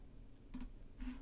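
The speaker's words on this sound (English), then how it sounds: "you can just right click" Computer mouse right-clicking on a Windows Server 2016 machine: two short, close clicks about half a second apart against a quiet background.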